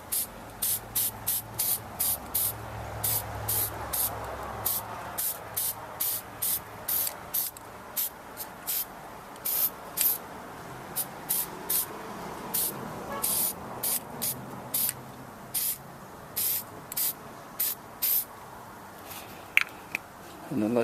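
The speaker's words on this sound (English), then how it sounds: "Basically, you just spray it on the back" Product is sprayed onto the back of rear brake pads for a Ford Crown Victoria Police Interceptor in short, sharp hissing bursts, repeated over and over in an uneven rhythm close to the microphone.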